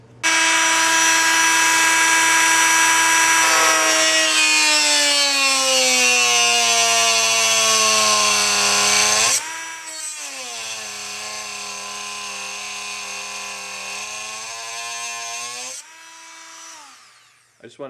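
A rotary tool cuts through a 1/8 inch thick aluminum computer case top panel with a loud, high whining scream. Its pitch sags as the bit bites, then comes back up, and it stops and restarts before winding down.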